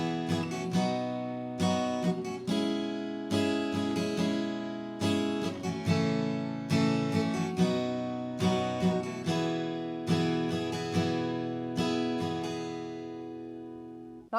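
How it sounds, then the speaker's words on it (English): An acoustic guitar plays the strumming pattern of a song at full speed, with bright chords struck in a steady rhythm that ring out and decay between strokes, played solo and close. "So if I played for you up to speed with the strumming pattern, it will sound like this"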